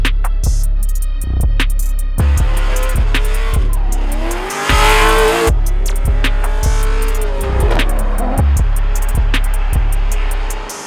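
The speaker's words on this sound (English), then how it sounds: "and of course we brought our own drift cars." Drift cars on a track rev hard and slide, with screeching tire squeals and rising engine whines close by, repeated bursts of acceleration and a brief cutoff midway.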